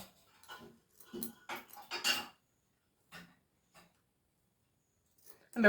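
Scissors snip through a plastic onion mesh sack in a series of short, crisp cuts, bunched close together at first, then sparser, heard nearby and alone in a quiet room.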